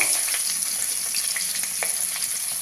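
Potato and eggplant pieces fry in hot oil with salt and turmeric, giving a steady, close sizzle with small crackles and pops and no talk.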